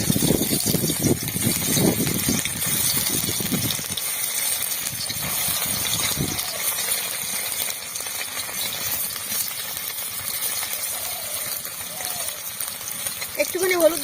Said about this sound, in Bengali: এখন আমি পনিরগুলো ভেজে নেব।